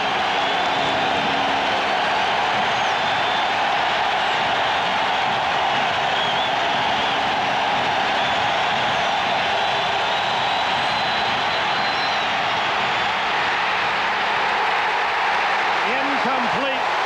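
A large football stadium crowd at a 1994 NFL game between the Raiders and Dolphins roars steadily for a long stretch, a loud, dense wall of cheering and noise with a commentator's voice running over it.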